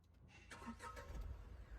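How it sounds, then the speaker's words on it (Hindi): A Tata Punch car engine starts with a low rumble that settles into a steady running note, nearby and fairly faint, with no talking. "अब ये गाड़ी चालू हो गई"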